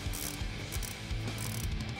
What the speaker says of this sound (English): now we can take a 15 millimeter ratcheting wrench or a 15 millimeter wrench and take off this top nut